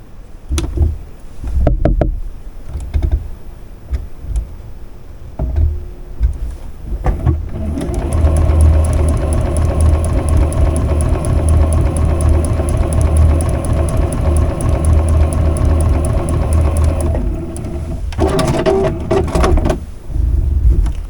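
A home sewing machine stitching quilt block pieces together runs in one steady whirring, rhythmic burst for about ten seconds, preceded and followed by handling knocks and fabric rustle.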